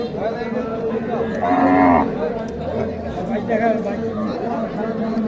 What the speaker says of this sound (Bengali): এই যে হচ্ছে গাবিটা